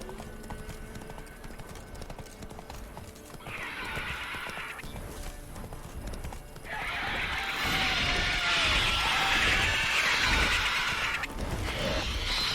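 Steady rhythmic hoofbeats of a galloping horse in The Witcher 3, growing louder midway as a harsh shrieking cockatrice cry and other game sounds join in.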